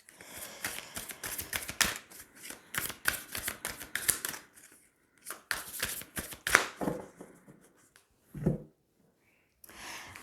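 Tarot cards being gathered up and shuffled after being dropped, with a close run of quick papery riffles and slaps in bursts, then a pause and a few last soft taps.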